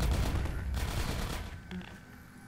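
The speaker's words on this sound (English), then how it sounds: "You don't need to keep shooting at us" Enemy gunfire in the video game Half-Life 2 Episode One, a dense burst of rapid shots up close that thins out into scattered fainter pops.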